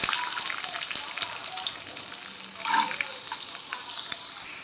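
Chopped carrots dropped into hot oil already holding mustard seeds, curry leaves and dried chillies for a Tamil carrot poriyal, giving a steady close sizzle with a brief louder burst of frying and light stirring.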